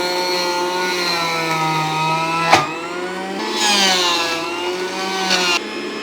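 A low-cost electric juicer grinds a whole banana stem, its motor whining steadily with a strained, wavering pitch and a sharp knock partway through, loud and close with no talking.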